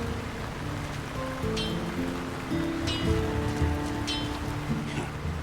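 Steady rain falls in a town in Lord of the Rings: War in the North, a constant close patter with low background tones and a few brief sharp ticks, no voices.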